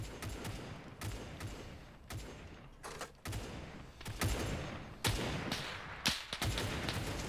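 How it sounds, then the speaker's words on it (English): Bombs and gunfire during a bombing run in the video game Arma 3, set on Tarawa, with a series of sharp blasts and crackling bursts at irregular intervals. The reports are fairly distant and subdued. "Because this is a bombing run. That, I think, is a bomb."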